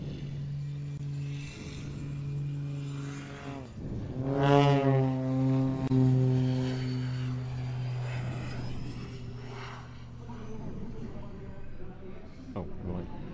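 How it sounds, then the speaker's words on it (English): An aerobatic aircraft begins its takeoff roll with smoke on at the Antidotum Airshow in Leszno, 2024. The engine drones in strong harmonic tones that swell and sweep upward midway before settling, with a voice speaking over it. "The takeoff roll is starting, the smoke is on"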